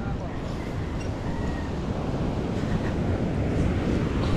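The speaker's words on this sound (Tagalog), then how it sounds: "Grabe, ang laki ng mga alon." Big ocean waves breaking on a shore make a steady, loud broadband roar with gusts of wind buffeting the microphone, while voices talk faintly underneath.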